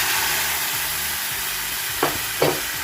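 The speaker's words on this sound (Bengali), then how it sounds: "প্রথমেই দিয়ে দিচ্ছি খানিকটা ডাল সেদ্ধের জল" Lentil cooking water poured into a pan of fried onions for mixed dal tadka, giving a steady, close sizzle with two brief sharper spits of steam near the end.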